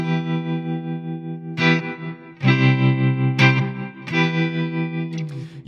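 Guitar chords through a Strymon pedal with tremolo and reverb engaged together, a few strummed chords pulsing rhythmically in volume and trailing into a shimmering wash.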